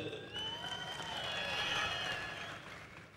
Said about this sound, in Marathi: टाळ्या वाजून काही उपयोग नाहीये.